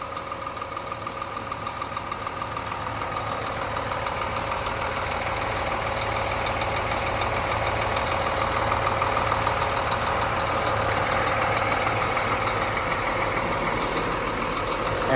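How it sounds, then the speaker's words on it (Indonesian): New K40IB diesel engine in a Jetbus 3 SD-V coach idling with the engine cover open, a steady crisp mid-pitched rumble with a faint ticking knock, close and unbroken, with no talk. "Beginilah mesin K40IB kalau masih new."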